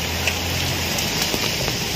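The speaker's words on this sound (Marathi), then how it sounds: "एवढा मोठ्या प्रमाणावरती सध्या चिपळूणमध्ये पाऊस चालू आहे." Heavy monsoon rain pours down in Chiplun, a dense, continuous hiss of rainfall on surfaces at fairly close range, with no talking.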